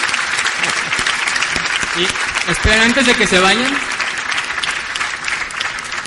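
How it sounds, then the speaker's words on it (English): A crowd applauds loudly and steadily throughout, while someone speaks over the clapping through the middle. "please, another applause"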